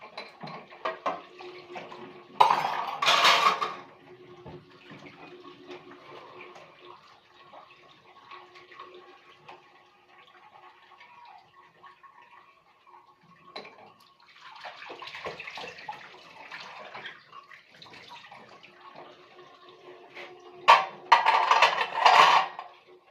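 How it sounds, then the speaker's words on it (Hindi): Dishes are washed under a running tap, with intermittent bursts of gushing water and soft clinks of utensils, quiet handling in between, close and unaccompanied by talk. "तो हम बर्तन धो रहे हैं"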